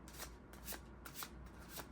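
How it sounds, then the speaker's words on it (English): Tarot cards are shuffled by hand in quick repeated riffles, several crisp flurries close to the microphone, quiet overall with no voices. "I just started like shuffling accidentally"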